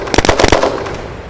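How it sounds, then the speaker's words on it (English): Rapid gunfire in the online shooter Red Crucible: Firestorm, a quick burst of about half a dozen sharp, close shots in the first half second, then fading into a lingering noisy tail. "The gun sounds terrible."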